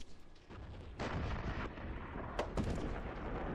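Gunfire in a military video game, with heavy rumbling shots and sharp bursts over a continuous dense battle din, loud and close, with no talk.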